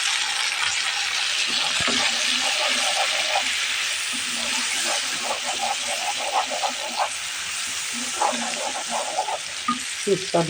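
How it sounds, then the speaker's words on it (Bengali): Spice paste hitting hot oil while cooking a poa fish dish, giving a steady loud sizzle and hiss with scattered stirring clicks and scrapes throughout, close and continuous. "এখন মশলাটা ঢেলে দিলাম"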